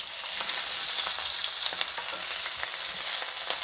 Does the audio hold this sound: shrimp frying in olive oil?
yes